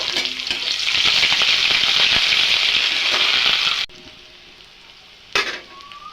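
Washed, chopped onions tossed into hot oil with dried chillies and whole spices, a loud dense sizzle that roars for a few seconds, then drops away abruptly before one brief sharp clatter.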